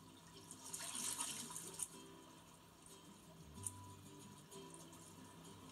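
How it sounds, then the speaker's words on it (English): Cold open water flows and trickles steadily outdoors, a continuous soft wash of moderate loudness with a brief louder splash near the start. "Listen to the water."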